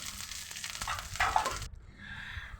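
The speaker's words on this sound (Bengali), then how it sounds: "আমি সব কিছু একটু খুন্তির সাহায্যে একটু নাড়াচাড়া করে হালকা করে ভেজে নেব" Onion, garlic and green chillies frying in a pan for a fish roe dish, stirred with a spatula: steady sizzling with scraping strokes that stops abruptly, leaving a faint quieter hiss.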